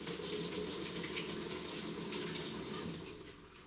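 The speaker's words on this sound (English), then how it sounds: "the machine is filling up with water and starting the process" A Maytag washing machine fills with water, a steady, even rushing and hissing flow that stays constant and fairly close, then eases off slightly at the end, with no voices.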